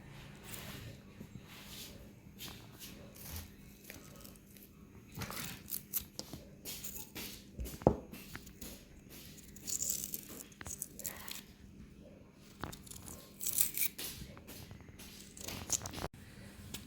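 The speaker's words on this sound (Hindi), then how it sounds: "अब अदरक को छील के बारीक बारीक काट लेते हैं" Fresh ginger being peeled and finely chopped with a knife for homemade ginger-garlic paste: faint, irregular scraping and light cutting taps over a quiet kitchen background, with no talking.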